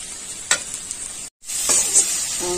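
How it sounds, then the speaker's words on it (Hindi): Spices fry with tomato and onion in a pan, a close sizzle broken by a couple of spatula scrapes and a brief cut to silence before the hissing resumes. "तो मसाले को हम थोड़ा सा भून लेते हैं टमाटर और प्याज के साथ।"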